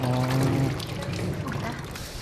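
Water pours and splashes steadily over fruit being washed for zoo animals in a zoo kitchen, a continuous close rush with a voice briefly heard at the start.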